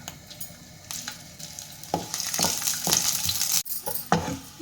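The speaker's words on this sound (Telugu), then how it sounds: "ఒక స్పూన్ నెయ్యి వేసి తెల్లుల్లిపాయలు ఉంటాయి కదండి, ఈ నేతిలో వేపుకోవాలి" Garlic frying in a spoonful of ghee, a steady close sizzle broken by several sharp stir-and-scrape bursts, with no talk over it.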